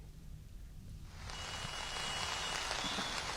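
Heavy monsoon rain in Bhubaneswar, a dense steady hiss of downpour that swells in loudly after a quieter opening second and then holds constant, with no voices.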